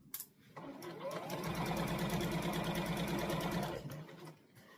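Sewing machine stitching the seams of a jacket, a fast, even rapid-fire whir that starts, runs steadily for a few seconds, then stops, close and clear.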